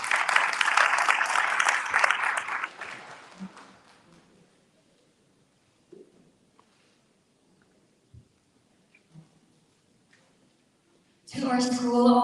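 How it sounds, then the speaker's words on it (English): Audience applause at a Grade 12 graduation ceremony, a broad clapping burst for the first few seconds that fades into near silence with scattered small noises, then a loud new sound returns at the very end. "Let's give her a round of applause."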